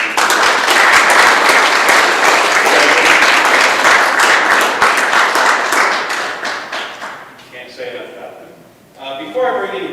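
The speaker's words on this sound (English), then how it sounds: "give these guys a round of applause" Loud applause from an audience at a high school football awards night for the Crawfordsville Athenians, steady dense clapping for several seconds that thins out near the end as a voice begins talking.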